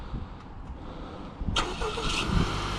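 A 2020 Honda Accord EX-L with the 2.0T engine turns over by remote start: a rising crank and catch partway through, then a steady mid-pitched idle, heard close by with no talk.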